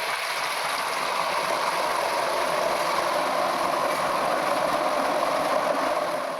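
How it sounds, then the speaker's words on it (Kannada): Jackfruit chips fry in hot oil just after salt water is added, making a dense, loud, unbroken hiss of bubbling oil that holds steady throughout. "ಇನ್ನು ಇದರ ಸೌಂಡ್ ಫುಲ್ ನಿಲ್ಲೋ ತನಕ ಇದನ್ನು ಹಾಗೆ ಫ್ರೈ ಆಗಲಿಕ್ಕೆ ಬಿಡಬೇಕು"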